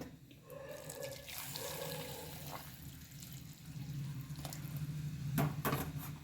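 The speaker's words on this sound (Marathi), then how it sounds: "आता आपण यामध्ये गरम पाणी घालून घेणार आहोत" Hot water pouring and splashing into a cooking pot, a continuous gushing stream that swells and thins, with a few clinks near the end.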